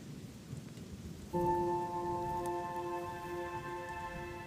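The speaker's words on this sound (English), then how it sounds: "And as if by clockwork, it's raining." Steady rain patters down, joined partway through by a sustained tonal hum with several harmonics, continuing to the end.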